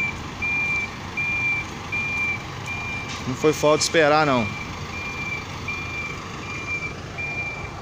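A BHTRANS tow truck hauls a parked car from Praça Floriano Peixoto in Belo Horizonte, its reversing beeper sounding a steady high tone over street noise while someone speaks briefly in the middle.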